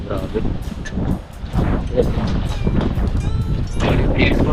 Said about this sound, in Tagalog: Naku, lakas ng hangin.